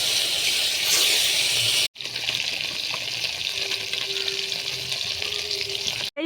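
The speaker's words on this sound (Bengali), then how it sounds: "তেলটা গরম হয়ে গেলে এবার মাছগুলো ভেজে নেব।" Salted, turmeric-rubbed kanta fish frying in hot oil in a wok, a loud, dense, continuous sizzle heard close up, with a brief cut near the two-second mark before the frying carries on steadily.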